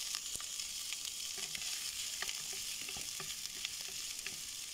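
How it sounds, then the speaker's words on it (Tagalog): Sliced golden brown pork belly being stirred in a frying pan, a steady close sizzle with scattered clicks and scrapes of the utensil against the pan, no voices. "Ilagay na natin yung golden brown sliced pork. I-mix natin."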